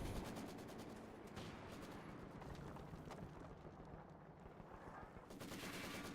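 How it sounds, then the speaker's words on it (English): Sustained Maxim machine gun fire in a World War tactical video game, rapid dense bursts of shots rattling continuously at close range with distant battle noise behind. "Panzer Grenadiers suppressed at basically point-blank range by this Maxim. It's on sustained fire"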